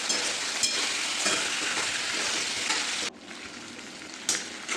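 Potato pieces fry in hot oil with cumin, mustard seeds and green chili, giving a loud, dense close sizzle that drops suddenly partway through and then keeps going more quietly, with no voices.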